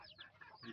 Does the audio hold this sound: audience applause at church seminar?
no